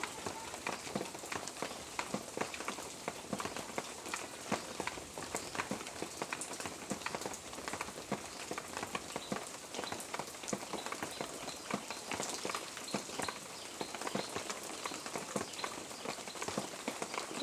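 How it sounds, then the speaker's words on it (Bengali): Fried potatoes hiss and crackle in oil with spice paste for a Bengali bhola fish curry, a close, continuous sizzle dotted with dense little pops and steady stirring rattle. "এবার ভেজে রাখা আলুগুলো সব তেলের মধ্যে, মশলার মধ্যে দিয়ে দেবো, দিয়ে আবারও একসঙ্গে কষিয়ে নেব।"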